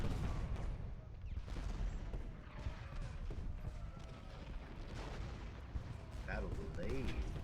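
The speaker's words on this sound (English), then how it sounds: "The guns should be in good position to shell these guys out." Artillery guns fire in Ultimate General Gettysburg, a Civil War battle game: a dense, steady rumble of cannon blasts and battle noise runs throughout while a voice talks over it.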